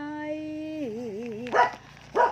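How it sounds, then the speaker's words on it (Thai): A dog close by lets out a drawn-out whine that wavers in pitch, then gives two short, sharp barks about half a second apart. "พึ่งเห่าดิ"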